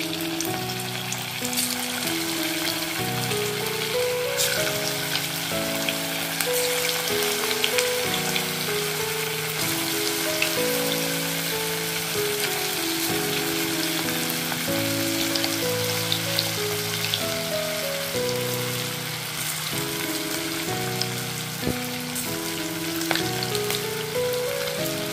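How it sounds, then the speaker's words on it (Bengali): Veg Manchurian balls deep-frying in hot oil in a kadai over a medium flame, a steady crackling sizzle heard alone throughout, partly under gentle background music. "তেলটা আমার গরম হয়ে গেছে, এবার এক এক করে বলগুলো দিয়ে দিচ্ছি।"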